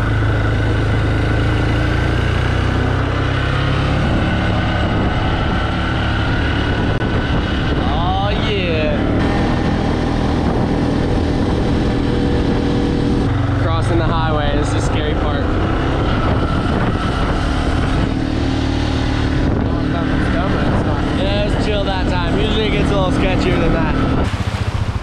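Jet ski engines drone loudly and steadily beside the water, revving and whining at moments, while people talk over the engine noise.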